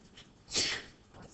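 One quick, breathy sneeze, short and fairly close, standing alone against a quiet room background with no talking.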